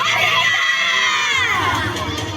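Children at a neighbourhood independence-day school play shout victory cheers together, a loud, sustained crowd of high voices rising and falling across the whole moment.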